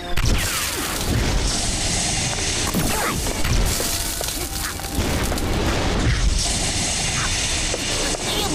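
Cartoon sleep bombs launched from a mechanical cannon in a Motu Patlu animation, clanking machinery, repeated booms and crashes layered over a busy, loud soundtrack with brief voices.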